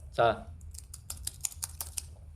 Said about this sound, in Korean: 제가 똑같이 지금 키보드를 치고 있습니다.